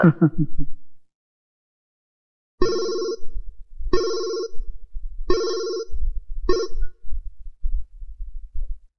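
A telephone bell rings in four sharp bursts with short pauses between them, loud and close, after a brief moment of talk at the start.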